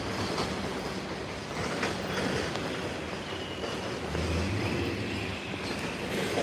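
An MBTA train rumbles past nearby with steady clattering of wheels on rails and a low, continuous roar that swells and holds.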